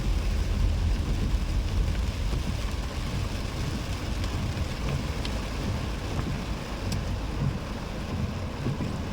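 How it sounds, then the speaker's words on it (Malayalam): Heavy rain during a road journey near Kulakappara junction in Wayanad, a constant loud roaring wash blended with low wind and vehicle rumble, unbroken and without talk. "നല്ല മഴ പെയ്തുണ്ട്"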